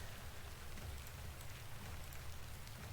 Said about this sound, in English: Lots of rain, it seems.